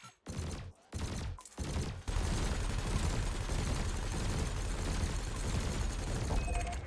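Ship weapons in Elite: Dangerous fire at floating canisters: a few short, separated bursts, then a dense, continuous roar of rapid gunfire that holds loud and steady to the end, with no talking.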